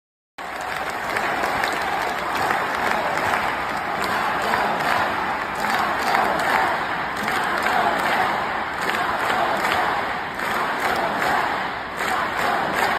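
A large crowd at a Kamala Harris rally in Omaha roars, cheers and claps, a loud sustained wash of voices and applause that begins abruptly and continues throughout.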